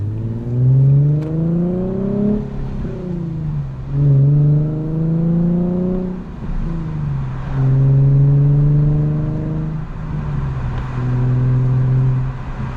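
A 2012 Nissan 370Z sports car driving, its engine droning loud and close in a rising tone through each gear, dropping at every shift and climbing again, repeated several times without talk.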